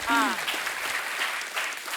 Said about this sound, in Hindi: आपने ताली क्यों बजाई?